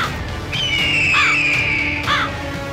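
Crows caw and squawk harshly in trees beside a pond where a kite hangs caught in kite string, with a thin, sustained high cry running beneath, over a constant outdoor background.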